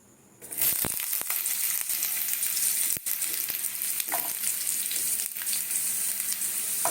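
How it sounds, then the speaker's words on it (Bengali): Potatoes frying in mustard oil in a pan on a gas stove, a steady loud sizzle running throughout with occasional stirring clicks. "প্রথমে আলুগুলোকে ভেজে নেবো"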